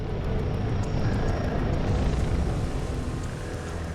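A helicopter in the game Crossfire Legion flies nearby with a loud, steady rotor and engine roar. The noise holds at an even level and eases off only slightly near the end.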